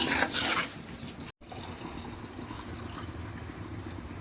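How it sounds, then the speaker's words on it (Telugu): Water pours steadily into a pot for cooking rice for biryani at close range, a continuous splashing flow with a brief cut partway through, no voices. "నీళ్ళు పోసుకుంటున్నా."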